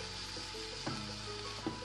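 Broad beans for a South Indian poriyal sizzle in a pan, with a few soft scraping stirs of a spoon breaking through the steady frying hiss.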